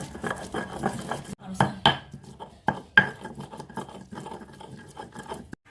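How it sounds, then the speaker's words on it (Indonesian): Candlenut, turmeric and shallot ground with a stone mortar and pestle, heard close up as repeated scraping and grinding strokes with sharp knocks in an uneven rhythm, no talking. "Kemiri, kunyit, sama bawang merah. Ini kita ulek."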